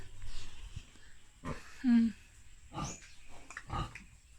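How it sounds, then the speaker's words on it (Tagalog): A mother pig nursing her piglets on a piggery farm gives a few low grunts and a short, loud squeal-like call, spaced out over quiet stretches, fairly close, with soft animal snuffles between. "Thank you, Mama Pig. Si Mama Pig nagpadidi"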